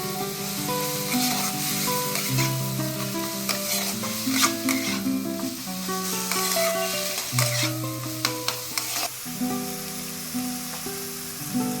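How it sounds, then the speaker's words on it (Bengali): Carrots stirred and fried in a pan while making a homemade chicken sandwich, a steady close sizzle with repeated scraping and clinking stirs throughout, no voices. "গাজরটা দিয়ে এবার মিক্স করে ফ্রাই করে নেওয়া হবে।"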